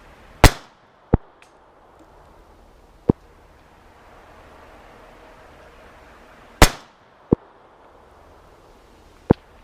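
Beretta 950 BS Jetfire .25 auto pistol firing outdoors, six sharp, loud reports spaced irregularly over several seconds, each with a quick bright crack and brief decay.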